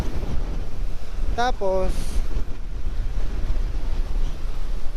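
Strong sea wind and waves on a coastal trip in Ilocos make a constant loud roaring rush, with a brief spoken word partway through.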